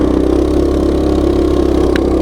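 A Coleman mini bike engine fitted with a stage 1 torque converter runs loud and close with a steady, throbbing mid-pitched drone and a fast pulsing rhythm throughout.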